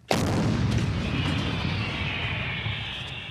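A single heavy artillery gun fires near the front line, a loud sudden boom at the start that rolls into a long, sustained rumbling echo that fades slowly over several seconds.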